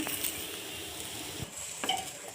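Wheat for godhi huggi fries and is stirred in a pan, a steady close sizzle broken by faint scraping and light clinks of the spoon against the metal.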